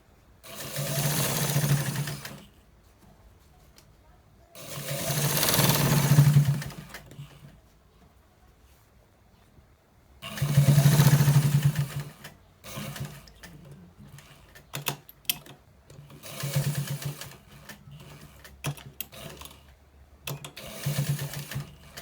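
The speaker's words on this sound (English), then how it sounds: "So we are stitching it, guys." A sewing machine stitches white trousers in bursts of rapid mechanical chatter, several runs of a couple of seconds each separated by pauses, then shorter stop-start stitching, close and clear with no talk.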